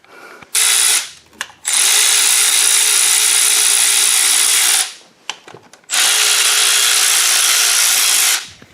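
An impact-style power tool spins out engine oil pump bolts in loud sustained bursts, two long runs of whirring and ratcheting separated by short pauses and clanks, close up.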